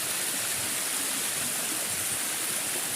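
Water pours steadily over an overflow weir in a natural setting among rocks, a continuous broadband rushing roar with no pauses.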